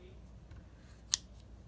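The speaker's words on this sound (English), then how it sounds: "I take my scissors and I kind of cut what I don't need." Scissors give one quick, crisp snip while trimming the excess end of a nail polish strip, a single faint click close by over a quiet room.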